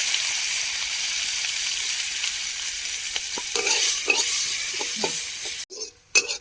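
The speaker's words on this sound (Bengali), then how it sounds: "এখন দিয়ে দেবো কুচিয়ে রাখা পেঁয়াজ।" Chopped onions hit hot oil already seasoned with bay leaf and five-spice, producing a loud, dense, continuous sizzle with a few stirring knocks, then it cuts off abruptly near the end.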